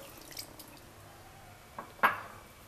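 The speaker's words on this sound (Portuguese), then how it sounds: "Vamos colocar mais água" Water is added to couscous in a kitchen: a few small drips and squishy splashes are heard, ending in one sharper wet plop near the end, quiet and close with no talking.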